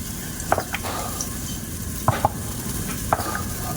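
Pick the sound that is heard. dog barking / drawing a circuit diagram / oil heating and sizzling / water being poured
oil heating and sizzling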